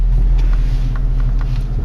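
A Range Rover Sport's engine runs steadily with a deep, constant low rumble heard from close by and at a loud, even level throughout, with no talk over it.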